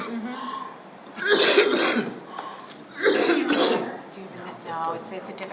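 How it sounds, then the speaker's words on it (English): Coughing from an adult at a town select board and finance committee meeting: two strong bursts of harsh coughs, then a weaker one, close to the microphone, with a little talk around them. "Just a cough."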